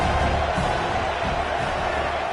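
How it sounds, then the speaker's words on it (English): A home stadium crowd at a Miami versus Florida State football game roars on a critical fourth down, a sustained broad wash of cheering and whoops that swells and stays loud, with no clear talk. "Home crowd trying to make a difference on 4th down."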